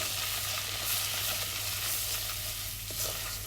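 Butter and plain flour sizzle in a pan as the roux for a cheese sauce is cooked, a steady close crackle and hiss lasting throughout without any talking.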